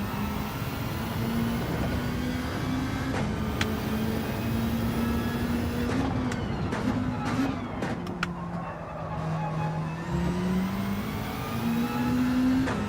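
A race car in Gran Turismo 7 roars through a lobby race, the engine note rising and dropping as it downshifts to slow for a corner, with brief tyre scrubs and clicks over the steady drone.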